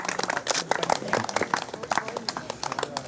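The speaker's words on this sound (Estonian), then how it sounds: "Nii, aplaus veel naistele, tüdrukutele." Crowd applause for the women and girls receiving prizes at the Ida-Virumaa cycling championship awards ceremony at Pannjärve, a steady patter of clapping lasting throughout with voices mixed in.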